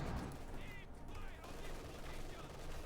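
Machine gun fire from an MG42 in the strategy game Company of Heroes 2 crackles under a dense, noisy battle mix, quiet overall with scattered gunshots and combat sounds blending together.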